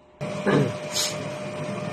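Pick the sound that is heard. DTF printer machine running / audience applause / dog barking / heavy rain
DTF printer machine running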